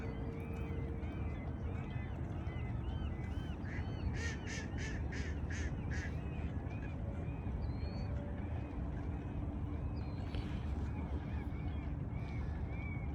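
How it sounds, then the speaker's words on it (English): Waterfowl honking at the Cedar River at dusk, repeated goose-like calls and quacks carrying faintly over a steady outdoor rush of water, with a short cluster of sharper calls midway. "you can hear the birds out here, but you can't really see them much."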